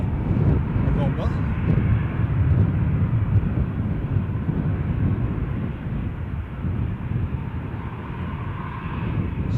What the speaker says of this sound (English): So this aircraft was delivered in March 2002 and has operated in Star Alliance livery throughout